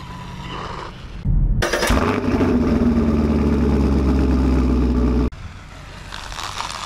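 A Losi Promoto MX RC motorcycle runs past with a loud, sustained buzzing motor whine lasting several seconds, which cuts off abruptly and leaves quieter background noise.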